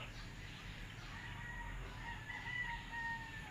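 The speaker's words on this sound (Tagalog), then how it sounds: "Parang maraming ibon, ah." A rooster crows at a distance with other birds calling faintly over a steady outdoor hum.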